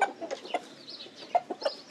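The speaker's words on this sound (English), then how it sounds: "Chicken." Farm chicken clucking in a series of short, close, fairly soft calls with brief pauses between them, alone with no talk.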